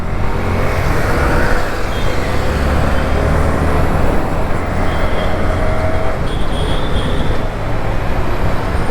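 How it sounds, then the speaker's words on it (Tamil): Heavy road traffic rumbles steadily and loudly throughout, a dense continuous roar of engines from a busy street close by. "ஆனால் டிராஃபிக் எக்ஸட்ரா பயங்கரமாக இருக்குது"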